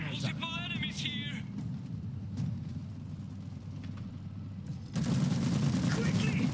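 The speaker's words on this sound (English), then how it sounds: "They're shooting at us!" Gunfire crackles through a battle in the strategy game Iron Harvest, bursts of shots over a steady low rumble of combat, growing denser and louder near the end, with voices speaking over it.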